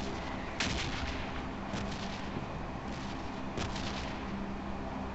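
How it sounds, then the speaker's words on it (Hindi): Sniper rifle shots in the PUBG Mobile game ring out three times, each a sharp crack with a short echoing tail, over a steady background of game ambience. "मेरे पास स्नाइपर है इस टाइम हेडशॉट लूंगा बहुत दूर का"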